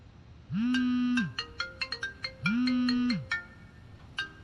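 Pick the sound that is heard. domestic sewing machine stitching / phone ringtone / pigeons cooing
phone ringtone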